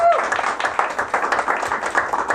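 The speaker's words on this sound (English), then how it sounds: "Give a big round of applause for women." An audience at a reception claps and applauds steadily in a dense, lively burst of many hands, without pause for the full stretch.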